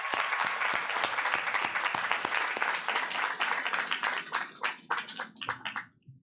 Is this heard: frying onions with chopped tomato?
no